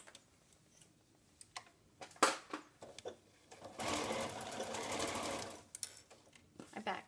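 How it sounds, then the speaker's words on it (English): A sewing machine stitches an N95 mask cover in a steady, buzzing run of a couple of seconds, preceded and followed by sharp clicks and fabric handling, with a voice speaking briefly. "So we're going to sew this."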